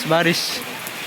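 Rain keeps up a soft, steady hiss in the background while a person speaks briefly over it at the start, the patter carrying on alone afterward.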